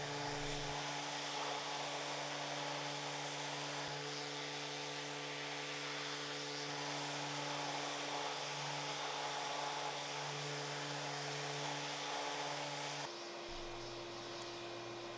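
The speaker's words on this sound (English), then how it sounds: "Vacuum off excess dust." A vacuum removes sanding dust from wooden picture frames with a loud, continuous motor roar and a steady hum. The pitch shifts briefly near the end, and no one speaks.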